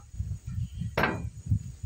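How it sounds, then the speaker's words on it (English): A single sharp hammer strike drives a steel drive pin into a wooden shovel handle fitted with a washer, heard close over a steady low background rumble. "just take a hammer and drive it in"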